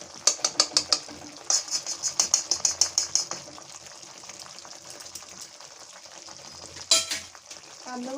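Ghee sizzles in a frying pan with spiced Bengali eggplant while a utensil clicks and scrapes in quick bursts against the pan, fairly quiet and close.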